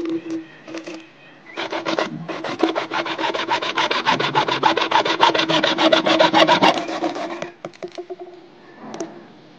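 PVC pipe is sawn through by hand, a close, rapid rasping stroke rhythm building to a dense run of even strokes before tapering into a few scattered scrapes.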